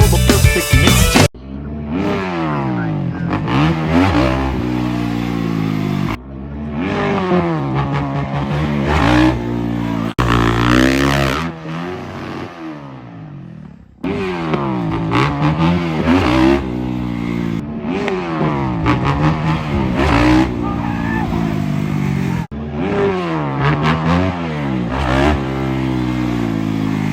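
A motorcycle makes repeated backflip-to-wheelie attempts off a ramp. Loud engine revs rise and fall in several bursts, broken by short gaps and clattering landings.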